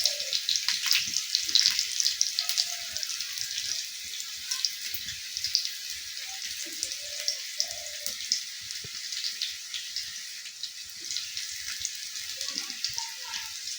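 Green chillies fry in hot tempering oil for arhar dal, giving a continuous bright sizzle and crackle with scattered pops and small clinks of utensils, steady and close throughout.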